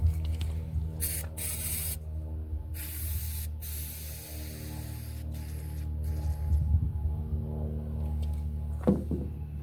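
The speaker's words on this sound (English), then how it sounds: "I'm gonna spray this out before I put that back in." Repeated short bursts of aerosol cleaner spray hiss close by into a Craftsman lawn mower part, separated by brief pauses over a steady low mechanical hum, with a faint clatter near the end.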